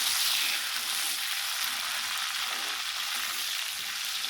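Green chillies sizzle in hot oil with browned onions for an aloo matar gajar mixed-vegetable dish, a steady, close, dense crackle that holds evenly throughout with no voices.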